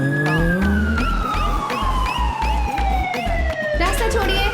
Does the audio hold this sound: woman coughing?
no